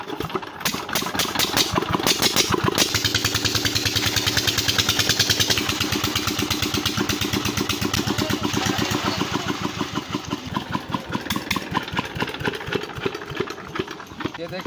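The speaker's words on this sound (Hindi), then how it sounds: "सुबह इंजन भी ठंडा हुआ पड़ा है, देखते हैं ये कैसे स्टार्ट होता है" A cold diesel engine on a village farm cranks and catches, then runs with a steady rapid chugging throughout, loud and close, with a voice talking over it.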